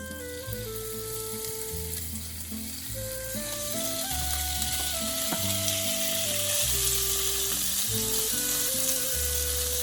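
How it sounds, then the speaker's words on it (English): A pound of shrimp sizzling in a tablespoon of olive oil in a hot pan for shrimp pasta, a loud continuous frying hiss throughout, with background music playing underneath. "We'll go in with some olive oil, about a tablespoon, pound of shrimp. It's gonna go in now."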